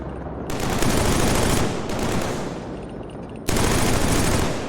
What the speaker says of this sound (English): MG42, baby. It's a classic for a reason.